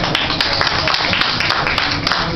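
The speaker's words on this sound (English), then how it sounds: "let's give the lady a round of applause" A crowd gives a round of applause for a woman, with steady clapping from many hands filling the room at moderate loudness.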